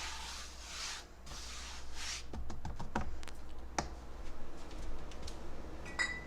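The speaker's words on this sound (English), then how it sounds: "Just kind of spread that flour over the cutting board." Flour spread over a cutting board by hand for pumpkin dog biscuits, heard as a soft, close rubbing and brushing, with scattered light taps and no talking.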